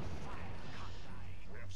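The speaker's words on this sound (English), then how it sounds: "Come on, explode." Enemy scout ship exploding in the space strategy game Sword of the Stars, a faint, steady rumbling burst with a muffled crackle and low hum, quiet and distant throughout.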